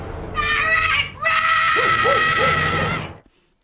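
A woman in a film screams loudly and at length: a piercing, sustained cry that breaks once for a breath, then carries on before stopping abruptly.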